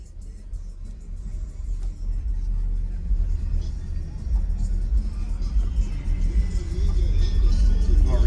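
Deep booming bass from two 18-inch subwoofers pushing 8,000 watts in a truck, heavy low-end rumble building in loudness over several seconds, close and throbbing.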